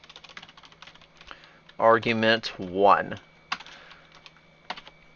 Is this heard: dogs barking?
no